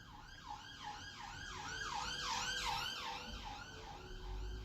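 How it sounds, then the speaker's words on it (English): A wailing emergency siren sweeps up and down in a repeating pattern as it passes outside, heard through walls at moderate distance, swelling briefly then easing off. "siren's gone"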